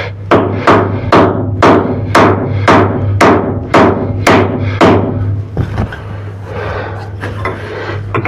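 Bronze screws and bolts are hammered into a historical wooden lifeboat under restoration, about nine sharp metallic blows struck in an even rhythm over a low steady hum, followed by quieter scattered knocks and handling noises.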